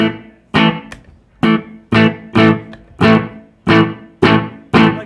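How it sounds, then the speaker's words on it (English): Electric guitar from a touring rock player's rig, run through effects with a subtle slapback delay, strikes about nine loud, separate distorted chords in an uneven rhythm, each ringing briefly before the next, with no talking. "this delay here, I just have set to a slapback kind of sound"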